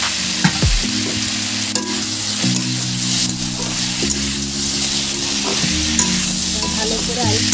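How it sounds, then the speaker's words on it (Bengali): Potatoes and bitter gourd fry together in a pan for a Bengali spicy dish. A steady, close sizzle runs throughout, with repeated stirring scrapes and light clinks and no voices. "বেশ কিছুক্ষণ ভাজা হয়ে গেছে, এবার আমি আলুটাও অ্যাড করে দেবো।"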